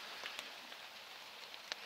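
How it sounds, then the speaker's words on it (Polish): Rain falling in a forest during a September mushroom hunt, a faint steady patter with a few distinct drops ticking sharply on nearby leaves or surfaces, quiet and without talk. "A deszcz pada, tak padał, tak pada."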